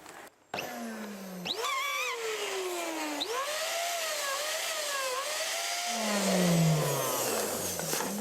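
A bubble toy is inflated slowly, giving a steady rushing hiss of air threaded with wavering, gliding squeals that rise and fall in pitch, close and fairly loud, with no talking.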